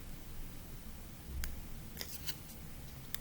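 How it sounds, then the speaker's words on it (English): Scissors snip through excess tape on a tessellation craft, a few quick, soft crisp cuts near the middle and end of a quiet stretch. "use my scissors to cut that extra bit of tape off"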